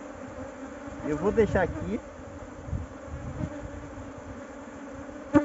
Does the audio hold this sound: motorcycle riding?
no